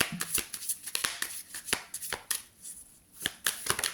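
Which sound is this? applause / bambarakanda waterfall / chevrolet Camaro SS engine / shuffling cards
shuffling cards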